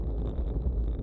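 Hot wind blowing across the microphone during an amateur Ufolep bicycle race in 34-degree heat, a steady low rumbling buffet with no voices.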